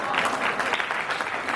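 Audience applause at a Hindi kavi sammelan poetry recital, a short burst of dense clapping from a crowd, close and loud throughout with no pause.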